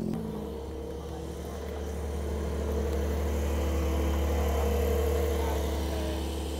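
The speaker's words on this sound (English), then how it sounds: "This sounds like a V8." A V8 car engine idles steadily at an outdoor car meet, a deep low rumble that swells slightly with a light rev midway, with faint background crowd noise.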